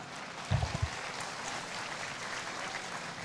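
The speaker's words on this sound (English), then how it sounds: "let's give them a round of applause" A round of applause at a showmanship event, a steady wash of clapping from an audience, fairly faint and even throughout, with a few louder thumps near the start.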